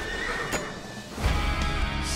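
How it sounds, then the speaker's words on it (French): A horse whinnies loudly in a Disney Tangled trailer, with a sharp snort near the start and a longer neigh swelling after the midpoint over a busy score and effects bed. "Je suis en train de me battre en duel contre un cheval!"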